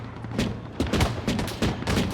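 Arma 3 gunfire, a close, loud run of rapid rifle shots in quick bursts with short gaps, sharp cracks over a low rumbling tail.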